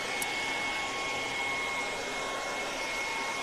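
A hair dryer blows across the lid of a glass maple syrup bottle, making a steady rushing airflow with a sustained whistling tone over it that holds evenly for the whole stretch.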